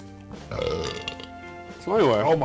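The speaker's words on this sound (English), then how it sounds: "Oh, my belch." A man at a late-night podcast drinking session lets out a loud, drawn-out belch after a shot of liquor and pickle juice, with close, croaking tones, following some voiced talk.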